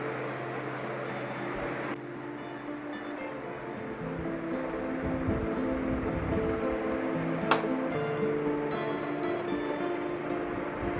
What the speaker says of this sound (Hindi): ये जो हेलीकॉप्टर जैसा जो आवाज़ आ रहा है ना वो पंखे का आवाज़ आ रहा है